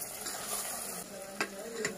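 Cooked oysters being mashed and stirred in a small pot that rocks as it is worked, with soft scraping and wet sizzle, a couple of sharper knocks near the end; no talk.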